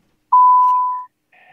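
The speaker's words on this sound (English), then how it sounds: "Do you want to press record?" One clean electronic beep sounds as recording starts on a podcast setup, sharp at onset and fading over about three quarters of a second, followed by brief faint noise.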